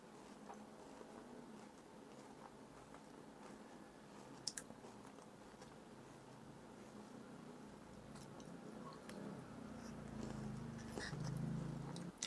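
Someone eats a Dubai chocolate bar with a thin chocolate shell filled with pistachio paste and thin pastry strands, with quiet, close chewing and soft crunching that grows a little louder toward the end.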